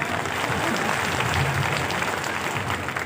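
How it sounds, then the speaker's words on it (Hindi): An outdoor crowd claps steadily at a chief minister's political speech in Jashpur, Chhattisgarh, producing a dense, continuous wash of applause with a faint murmur underneath. "ताली जोर के नहीं बजा रहे आप लोग"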